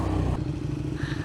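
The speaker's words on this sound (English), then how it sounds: "Oh god, my bike sounds so good." A roughly 200 WHP Kawasaki motorcycle engine rumbles briefly on a ride in Scotland, a low, throbbing exhaust note with a short clattering burst at the start.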